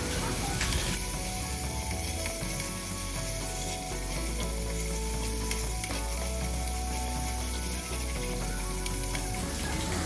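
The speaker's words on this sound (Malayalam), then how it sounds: "അതിനുശേഷം ചതച്ച് വെച്ച വെളുത്തുള്ളി, ഇഞ്ചി, മുളക് ഇട്ട് നല്ലപോലെ വഴറ്റേണ്ടതാണ്." Crushed garlic, ginger and chili sizzle and fry in a pan for a Kerala-style mutton curry, giving a steady, close, continuous crackle with occasional stirring clicks throughout.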